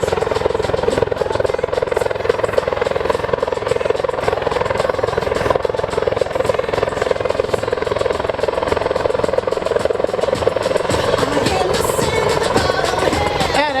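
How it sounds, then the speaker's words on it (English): A Royal Canadian Air Force Griffin helicopter hovering at an airshow, its rotor thudding loud and steady with a constant turbine whine throughout, close and unbroken. "As our Griffin helicopter turns towards us"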